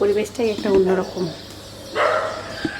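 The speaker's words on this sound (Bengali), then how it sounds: "কুকুরগুলো ঘেউ ঘেউ করতেছে।" Dogs bark at dawn near a mosque, with a few short yips and bow-wow barks. A person speaks over and between the barks.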